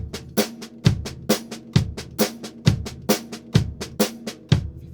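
Snare drum played in steady 16th notes with accents on the 'and', forming a train beat; crisp, evenly spaced strokes with louder accented hits in a repeating pattern, close and alone.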